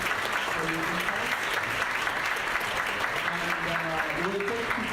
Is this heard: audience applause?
yes